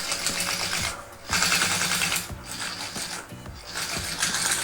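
Sewing machine topstitching a fabric lunch bag, a rapid mechanical clatter running in steady bursts with brief pauses between stitching runs, close and fairly loud with no talk.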